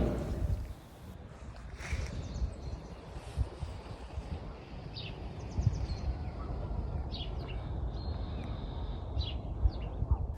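Faint bird chirps and calls outdoors in a quiet setting, brief scattered tweets over a soft steady wind-like background hush, distant and sparse.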